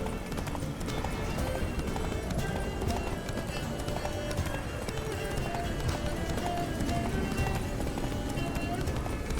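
Horse hooves clip-clop in a quick galloping rhythm in the video game Witcher 3, steady and continuous under game music and ambient sound, with no talking.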